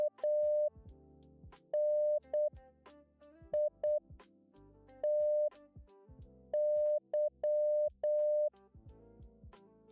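Morse code beeps in a game: a single steady tone sounds in short dots and longer dashes with uneven gaps, repeating clearly over faint background clicks and soft tonal music.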